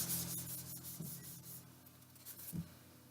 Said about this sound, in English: let me write it up here